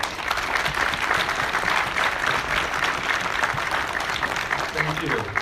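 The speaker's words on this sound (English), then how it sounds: "the spouses of veterans need a round of applause for the effort that they" An audience at a Veterans Day service applauds veterans' spouses with steady, dense clapping that holds at full strength throughout, loud and close.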